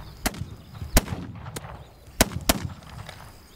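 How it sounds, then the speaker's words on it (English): Pistol gunfire in the video game This Land is My Land, five sharp loud shots spaced irregularly over a few seconds with quiet ambience between. "Let's get the pistol out."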